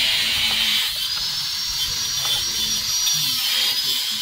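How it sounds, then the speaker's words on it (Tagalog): A grinder runs somewhere nearby during motorcycle work on a Yamaha Sniper 155, a continuous high whine that holds steady throughout with faint low clatter beneath it. "Ayun, may grinder na naman tayo."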